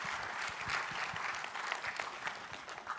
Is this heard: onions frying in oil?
no